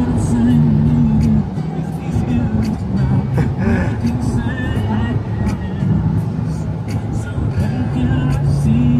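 A Cadillac Escalade with its rear hatch open drives off, giving a steady road-vehicle hum that continues throughout while people talk nearby.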